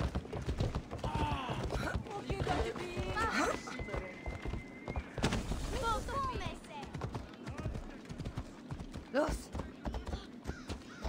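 Horse hooves clip-clop at a gallop in Assassin's Creed Odyssey, a fast continuous rhythm with occasional neighs and whinnies. Someone talks over the hoofbeats throughout.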